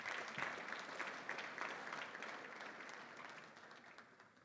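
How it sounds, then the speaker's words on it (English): Audience applause at a business awards gala, dense clapping that peaks early and then slowly thins and fades over four and a half seconds, recorded at a low level. "I think you all need a round of applause just for being here."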